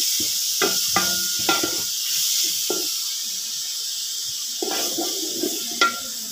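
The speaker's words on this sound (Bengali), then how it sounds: "এগুলো একটু ভালো করে নাড়াচাড়া করে ভেজে নেব" Chopped onion, garlic, green chili and tomato fry together in a pan for a meat and potato dish, a soft sizzle under repeated clinking and scraping stirs in short bursts, close by with no talk.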